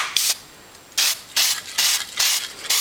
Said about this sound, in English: I'm going to show you how to spray paint.